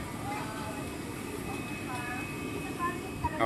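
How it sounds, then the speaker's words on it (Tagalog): Ride aboard a passenger train, a steady rumbling roar with faint squeals and rattles running throughout, no clear speech over the continuous noise. "Kaya medyo nakakabisado na namin ang pagsakay-sakay ng tren dito."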